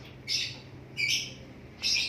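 A live pet bird lets out three loud, harsh squawks at a regular pace, each one short and close, with quiet pauses between the calls.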